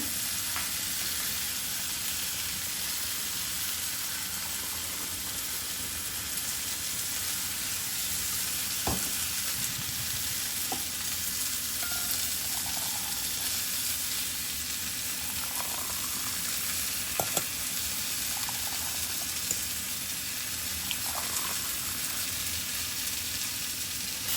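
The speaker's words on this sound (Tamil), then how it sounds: "அந்த உள்ளி தக்காளியும் வந்து வதங்கிட்டு" Onion and tomato sauté in a pan with a loud, continuous hissing sizzle that fills the whole stretch, broken only by a few faint ladle taps and scrapes.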